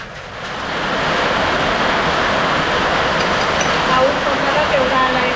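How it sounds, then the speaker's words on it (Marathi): Heavy rain pours down over a rural village farm in a loud, continuous roaring hiss that swells at the start and stays dense and steady throughout. "पावसामुळे ऐकायला पण येत नाही."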